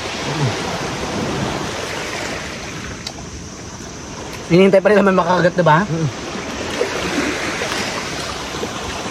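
Steady wash of rough sea waves on the shore, continuous and close. A person speaks briefly over it near the middle.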